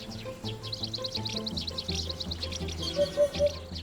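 Small flock of sparrows in a Chinese city, rapid high chirps and twitters repeating throughout over a steady low background rumble, with a few brighter tonal calls near the end.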